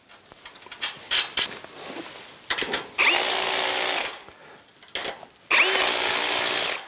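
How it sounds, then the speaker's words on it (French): Power tool tightening bolts on the rail brackets of a sectional garage door: short whirring bursts and clicks, then two longer loud steady runs of the driver, close up with no talking. "et je resserre les boulons de l'attache"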